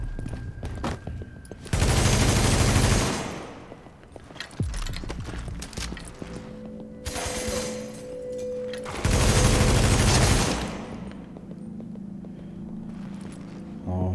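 Gunfire in the video game The Division, including sniper fire, comes in loud bursts of rapid shots and separate cracks over constant game background noise, with brief sounds of movement between the volleys.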